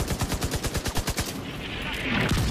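M60 machine gun in The Division 2 firing a rapid, loud burst of about a dozen shots in steady rhythm for over a second, then stopping as a broadband hiss and rumble take over.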